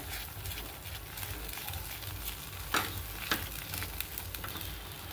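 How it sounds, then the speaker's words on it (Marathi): Spices and kitchen king masala being sautéed in a pan for methi mutter malai, a steady low sizzle with soft stirring scrapes and a couple of sharp spoon knocks against the pan, no talking. "आता आपण हे सगळं परतून घेऊया."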